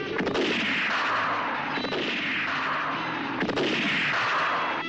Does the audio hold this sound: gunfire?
yes